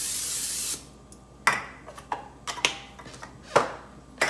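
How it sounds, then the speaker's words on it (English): A single hiss of non-stick cooking spray onto a pan lasting under a second, followed by a series of sharp clicks and taps. "You want to spray your pan with non-stick spray."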